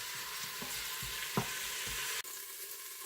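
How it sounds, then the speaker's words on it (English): Pork pieces sizzle quietly as they brown in hot oil in an Instant Pot, a soft steady frying hiss with a few faint stirs and clinks, and no talk. "I'm going to add the pork to it. Ooh, you hear that sizzle?"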